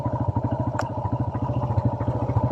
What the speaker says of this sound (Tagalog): Umander na kahit walang fuse.